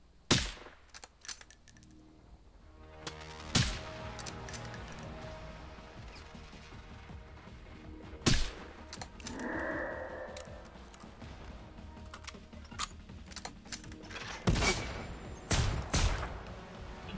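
Gunshots ring out in Generation Zero around a bunker, several sharp loud cracks spaced irregularly with bursts of rapid fire and mechanical clatter, mostly without talk.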